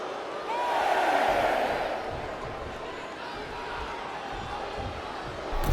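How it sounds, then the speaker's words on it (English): Arena crowd noise in the WWE 2K25 wrestling game swells into a broad roar of cheering, then eases to a sustained murmur, with a commentator talking over it. "With every move you make, you hear this capacity crowd following you on that journey."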